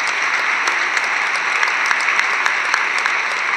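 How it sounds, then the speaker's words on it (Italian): An audience at a festival talk breaks into sustained applause, a dense, loud, continuous roll of many hands clapping with no voices over it. "vorrei che gli facessimo un applauso"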